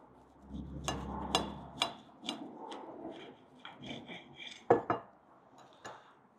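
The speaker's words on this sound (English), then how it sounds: "So that's a proper knife, isn't it? Let's take that off. So we'll cut that in half." A knife cutting a motorway café burger in half on a plate, a series of sharp clinks and scrapes of metal on crockery, irregular and close, with quiet rustles between strikes.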